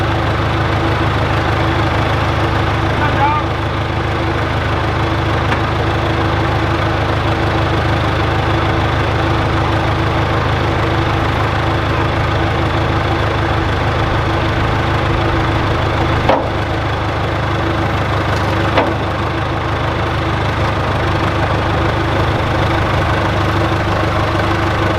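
A backhoe engine idling nearby, a loud, steady low rumble with a constant mechanical chug that holds for the whole stretch, broken only by a couple of faint knocks.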